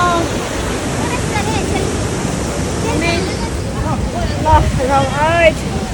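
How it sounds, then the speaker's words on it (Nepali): A large waterfall, Rupse Jharna in Mustang, Nepal, roars in a dense, steady wash of falling water close by, with voices and whistles over the top. "यत्रो ठुलो झरना"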